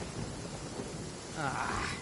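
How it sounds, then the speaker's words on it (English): Thunder rumbles through a lightning storm in Genshin Impact, a steady low roll of rain and storm noise that swells louder toward the end, with no talk over it. "Uh-oh! Lightning storm!"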